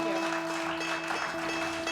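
An audience applauds at a coffee house concert at Devil Mountain Coffee House, a steady wash of clapping that continues evenly throughout at moderate, slightly distant loudness.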